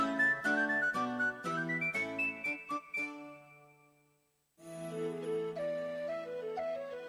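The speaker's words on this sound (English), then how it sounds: "Skiff whistle." A skiff whistle from the video game Ultima IV plays as a bright, tonal run of stepped notes that fades out, then a second sustained melodic phrase starts after a short gap.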